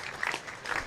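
A cricket crowd at a Yorkshire Vikings v Hampshire Royal London Cup match applauds good fielding, scattered distant clapping swelling twice in soft waves across the open ground.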